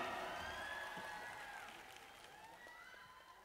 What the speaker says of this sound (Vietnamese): Một tràng pháo tay cho ban nhạc ạ.